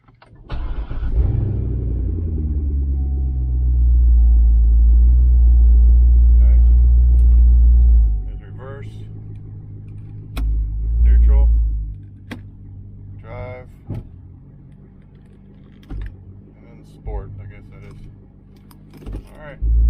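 Chevrolet Corvette C6 with no exhaust fitted cranks and fires into a loud, deep idle that drones for several seconds, then drops away into quieter clicks, rattles and handling noises.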